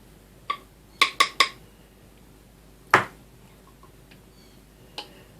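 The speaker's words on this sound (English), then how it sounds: "let me find one of my little dishes here, dump some of this paint in" Small dishes being handled before paint is poured in: a handful of sharp clinks and taps, one single knock followed by a quick cluster of three, then a louder clack and a few fainter ticks, in a quiet room.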